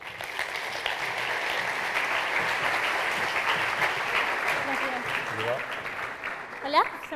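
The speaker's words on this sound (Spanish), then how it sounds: "un aplauso para Sara" Audience applauding at a university entrepreneurship event, steady sustained clapping from a crowd in a hall lasting several seconds, with a brief cheer or whistle near the end.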